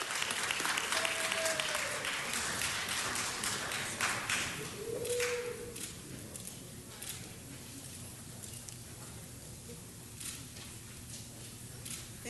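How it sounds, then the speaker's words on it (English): Applause for Michelle Miranda at a city council meeting, a sustained crowd clapping heard from a distance that is strongest at first and then gradually thins out, with no talking over it. "please give Michelle Miranda a big round of applause"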